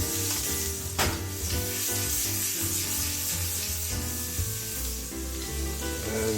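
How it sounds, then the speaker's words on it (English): Vegetables stir frying in a pan with garlic and garlic salt, a steady close sizzle with scraping and stirring that runs throughout, under light musical tones and with no talking. "And now we can stir fry these."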